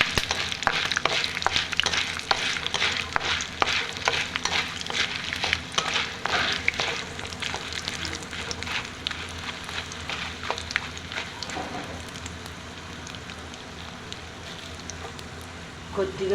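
Ingredients for a ridge gourd chutney fry in hot oil in a pan, giving a steady close sizzle with stirring scrapes throughout while a voice talks over it.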